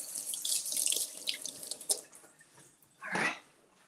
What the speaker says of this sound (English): let's rinse this off.